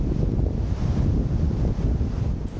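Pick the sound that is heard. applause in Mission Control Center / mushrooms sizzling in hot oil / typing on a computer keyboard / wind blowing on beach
wind blowing on beach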